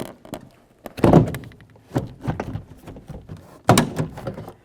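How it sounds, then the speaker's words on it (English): A 2003-2007 Honda Accord inside door panel is pried off, giving a series of close, sharp plastic thunks and pops as the clips release, separated by quieter handling noises. "We're going to pull it out at an angle from the bottom and lift it up along the top."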